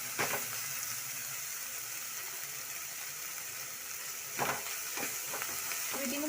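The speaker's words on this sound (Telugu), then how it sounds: "వీటిని బాగా వేయించుకోవాలి." Samosa stuffing with salt and chat masala frying in a pan at home, a continuous hiss of sizzling oil with a few scattered stirring clicks and scrapes.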